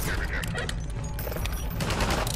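Enemy gunfire in Half-Life 2 rattles in rapid bursts, sharp cracks and mechanical clatter stacked over a dense, loud combat backdrop.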